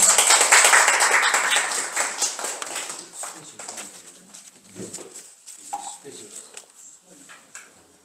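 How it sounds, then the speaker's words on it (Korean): A church congregation applauds: a dense burst of clapping that starts loud, then thins and fades over several seconds, with voices and scattered claps at the end. "박수로 한번 부탁드립니다."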